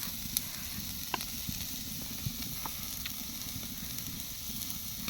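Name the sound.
onions frying in mustard oil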